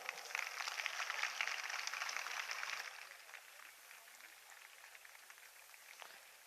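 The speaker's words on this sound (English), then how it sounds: "Keep clapping, audience." Applause from a school annual day audience, a soft dense patter of many hands heard from a distance, strongest at first and then thinning to scattered claps as it fades.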